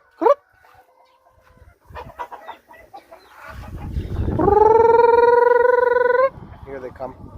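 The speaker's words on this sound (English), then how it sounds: "yeah, that's our chickens." Native chickens, black, red and silver hens, on a small farm near a manure pile, cluck and squawk in scattered calls, then one bird lets out a loud, sustained tonal crow-like call; brief human speech is heard early.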